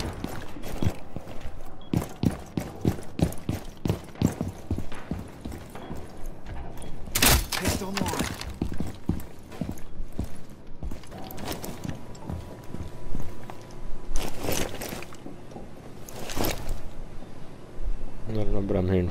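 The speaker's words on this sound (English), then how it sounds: "I'm hearing footsteps." Rapid, repeated footsteps in Rainbow Six Siege, a steady patter of clipped steps running through much of the stretch, with louder bursts of impact noise and a voice talking over them.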